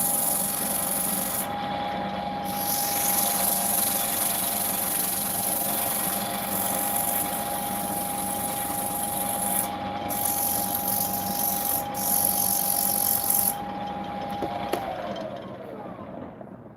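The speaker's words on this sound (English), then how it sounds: "Do the last bit of sanding here on the bottom" Wood being sanded, a continuous rough rubbing rasp that keeps going steadily and close by with only slight variation, accompanied by a steady faint tone underneath.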